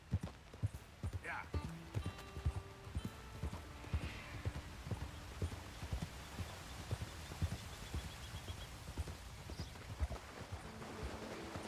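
Horse hooves clip-clop steadily at a walking pace in Red Dead Redemption 2, the stolen Hungarian Half-Breed moving along with regular soft thuds beneath a voice talking over the gameplay.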